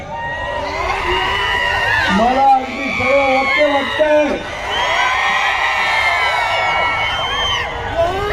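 A large crowd at a political rally roars and cheers loudly, with whoops and shouts rising in waves while someone speaks over the din through amplification.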